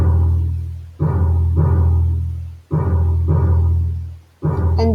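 Default drum pattern from the Chrome Music Lab Rhythm web tool: clear electronic pitched percussion hits in a steady looping rhythm, with resonant tonal strikes repeating about every second and a half, played alone without talk.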